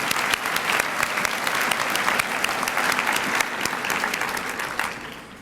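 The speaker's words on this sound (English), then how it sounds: "Please put your hands together for Thomas P." Audience applause greets Newcastle County Executive Thomas P. Gordon at an author event, a steady dense wash of clapping hands holding for about five seconds before starting to thin out.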